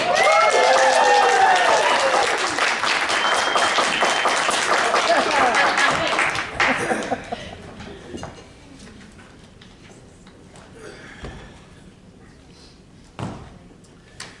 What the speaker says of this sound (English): Why don't you give a good round of applause for Team Cunning Plan.